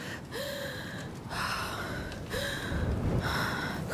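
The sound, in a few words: character gasping for breath in A Plague Tale: Requiem video game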